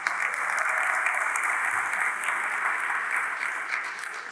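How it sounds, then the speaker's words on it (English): A conference audience at a JavaScript developer talk applauds the event's MCs, a full steady roar of clapping from a large room that holds evenly and tapers slightly at the end. "I think we also need to give an applause to our MCs."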